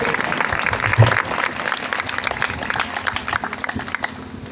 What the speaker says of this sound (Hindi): मैं चाहूँगा कि एक बार फिर हम भरपूर तालियां बजाएंगे खुदा के खादिम के लिए